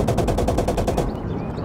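Rapid automatic machine gun fire from a World War II battle in Call to Arms: Gates of Hell, a loud sustained burst of evenly spaced shots lasting about a second before cutting off into lingering battlefield rumble.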